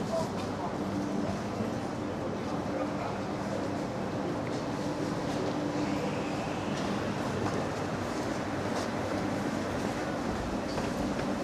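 A London train rumbles steadily at moderate loudness, with people talking nearby throughout.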